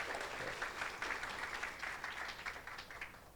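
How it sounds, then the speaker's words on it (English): Steady audience applause at an annual dinner, dense continuous clapping from a crowd throughout, fairly even in loudness with no talk over it. "Okay, another big round of applause for County Mayor of Maui, Richard Bisson."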